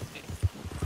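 Horse hooves clip-clop at a steady walking rhythm in the video game Red Dead Online, soft, muffled thuds close by with no talk over them.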